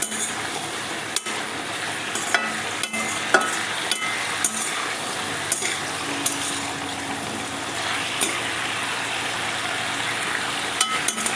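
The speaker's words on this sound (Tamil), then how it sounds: "லைட்டாக எண்ணெயில் வாழைக்காவை கரட்டி விட்டுக்கோங்க." Raw banana slices frying in oil while being stirred, a continuous close sizzle broken by sharp clinks and scrapes of a spoon against the pan, no voices.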